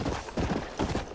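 Hooves of a horse in the Red Dead Redemption video game clip-clop in a quick steady walking rhythm, close and moderately loud, heard alone over a short stretch.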